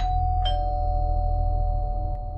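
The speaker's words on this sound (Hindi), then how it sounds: "अचानक मेरे घर की डोरबेल कोई बजाने लग गया" A home doorbell rings with a bright chime and a sustained electronic tone over a low steady hum, loud and close, lasting a couple of seconds.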